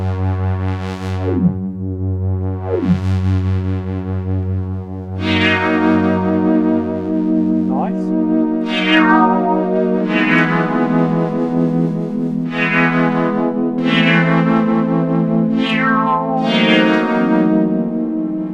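A Studio Electronics CODE 8 synthesizer under repair plays sustained, rich notes, with pitch-swept tones early and then a series of bright chords swelling and decaying, loud and close, with chorus-like shimmer and no talking.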